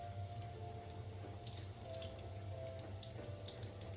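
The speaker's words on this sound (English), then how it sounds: "I'm washing my hands off camera, so don't say I didn't wash" Tap water runs steadily into a sink while hands are washed, a faint, even flow with scattered small splashes and drips, heard alone at a distance beneath a low background hum.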